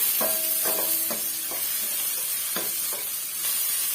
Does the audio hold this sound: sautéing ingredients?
yes